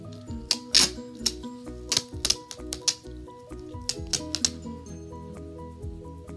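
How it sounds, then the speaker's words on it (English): Duct tape is pulled and cut to the length of a Ziploc bag, with sharp irregular ripping and snipping bursts close by, separated by short pauses. "you're gonna grab your duct tape and you're gonna cut the length that your Ziploc bag is"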